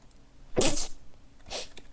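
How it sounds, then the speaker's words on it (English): A single close, sharp sneeze bursts out, followed about a second later by a softer second sneeze-like burst, in an otherwise quiet room. "I sneezed"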